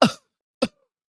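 Two short coughs from a man, a fuller first cough followed half a second later by a quicker, lighter one, close and clear against silence.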